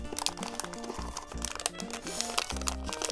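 Plastic wrapping crinkles and crunches steadily as a POPMART figure random box is unboxed, close and busy, with a faint voice briefly underneath.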